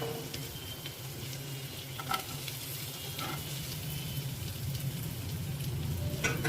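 Chopped ginger and raisins fry in a pan for a vegetarian buttery aloo dum, giving a steady close sizzle with faint scrapes of stirring and no voices.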